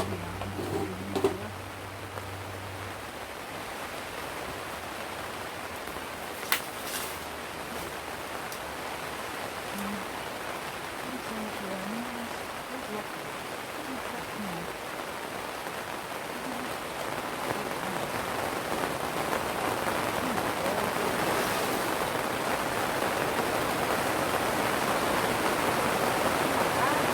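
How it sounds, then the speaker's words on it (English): Garden plants getting watered during a dry spell, a steady broadband hiss of water spraying and pattering onto foliage and soil, continuous and fairly close, growing slightly louder toward the end with no talking. "I'm going to have to do some watering now because some of these plants are quite dry"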